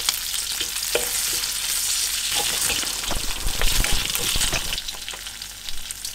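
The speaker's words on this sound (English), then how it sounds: "The fat is already starting to render out." Beef fat rendering into tallow over low heat, a steady bright sizzle and crackle of frying fat running throughout, with occasional stirring scrapes and pops rising in the middle.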